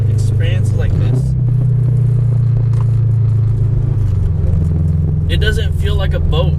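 A Subaru BRZ / Toyota 86 sports car takes a turn, its engine giving a loud, steady low drone throughout. There is some brief scraping and clatter, and a burst of higher noise near the end.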